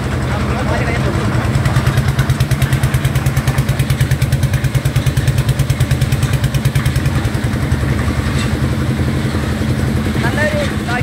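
A motorcycle engine runs steadily and close by, its low rapid pulsing throb shifting slightly as gears change, with a clattery mechanical edge throughout.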